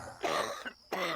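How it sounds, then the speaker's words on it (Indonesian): Two rough, painful coughs, close and fairly loud, the first drawn out and strained, the second after a brief pause, with no talking. "Suara batuk-batuk kesakitan."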